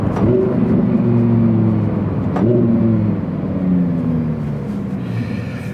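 A Lamborghini Sterrato engine revs hard and accelerates up through its gears, loud and close, with quick gearshifts breaking the rising roar around the 2.3-second mark and no voices over it.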